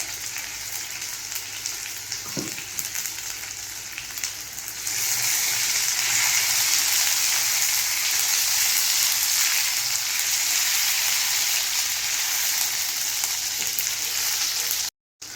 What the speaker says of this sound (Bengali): আদা বাটাটা একটু নাড়াচাড়া করে নেব। একটু হলুদের গুঁড়ো এর মধ্যে দিয়ে দেবো, যাতে করে তেলটা না ছেটকায়।